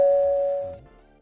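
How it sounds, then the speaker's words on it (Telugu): A single electronic doorbell chime rings out clearly with a steady tone, then fades over about a second with nothing else around it. "ఓ పక్కన కాలింగ్ బెల్ మోతుంది కదా"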